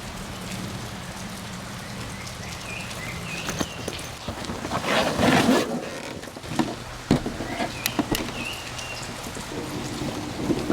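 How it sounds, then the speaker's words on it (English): Steady rain falls and patters on surfaces nearby, with scattered heavier drips and a few faint chirps in the background. "it's raining"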